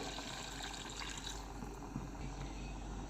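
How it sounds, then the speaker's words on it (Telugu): Water pours steadily into a pan of mutton curry with a soft, continuous splashing hiss, fairly close and unbroken. "ఇప్పుడు ఇందులో కొంచెం వాటర్ వేసుకుందాము"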